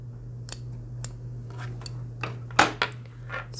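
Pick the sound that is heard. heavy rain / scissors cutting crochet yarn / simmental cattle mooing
scissors cutting crochet yarn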